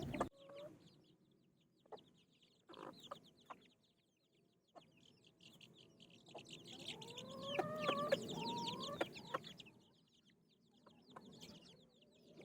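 Backyard chickens cluck softly and intermittently, with a louder burst of excited clucking and squawking in the middle, outdoors on a quiet day.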